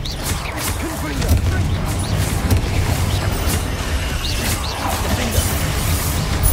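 Confringo spell blasts in a video game, a dense run of booming crashes and crackling bursts over a constant low rumble, loud and continuous with no break.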